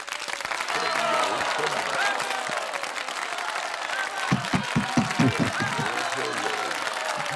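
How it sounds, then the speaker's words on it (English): A crowd at a contest night applauds in a steady wash of clapping that swells into sharper, closer claps, with a person talking over it. "Round of applause."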